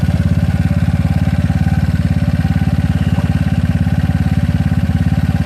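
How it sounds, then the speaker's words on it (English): A GY6 scooter engine fitted with an OKO PWK 30mm carburetor idles steadily and loudly, its fast even putter holding a constant rhythm throughout with no talking over it. "So I think this is where the engine's probably going to be idling at."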